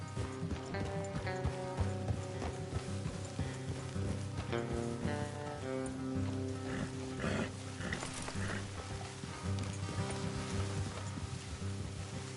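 Horse hooves clip-clop steadily in a western video game while riding toward a spot off the road, the rhythmic steps sitting under a dense, continuous musical score.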